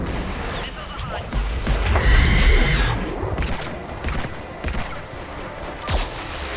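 Missiles launching in the Mass Effect 3 video game: a rumbling burst of firing and booming blasts, loud and close, with sharp impacts scattered across the clip and some voices in the mix.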